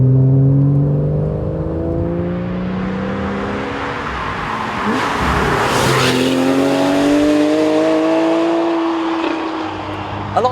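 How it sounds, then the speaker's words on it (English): A Porsche 911 991 with a 3.8-litre flat-six and sport exhaust accelerates hard through rising gears, the engine note climbing and dropping at each shift, loud and close with a rushing roar. "if you press this special noise button down here, it just sounds glorious"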